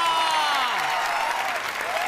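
An audience at a Marathi TV comedy show breaks into sustained, loud applause that fills the whole moment, with crowd noise mixed into the clapping.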